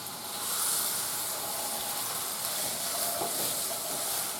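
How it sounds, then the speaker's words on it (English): Chicken sizzles steadily in a hot pan, a constant crackling hiss heard close up with no talking. "Here it's sizzling."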